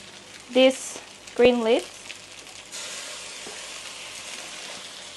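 Light soy sauce hitting a hot wok while Thai pork fried rice cooks, giving a steady sizzling hiss through the second half, with a man's short speech and a scrape earlier.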